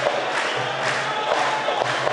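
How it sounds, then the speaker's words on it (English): Arena crowd at a Cage Warriors MMA event in Jordan, during a Jack Hermansson title fight: a steady, dense roar of many voices cheering and shouting, with a low droning hum underneath and occasional brief peaks. "the crowd here in Jordan getting behind this fight, getting behind the champ"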